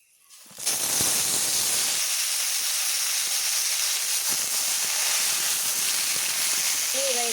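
Ridge gourd pieces drop into hot oil already holding green chillies, five-spice and a bay leaf, and a sudden loud hiss rises into a steady, bright sizzle. A voice comes in faintly at the very end.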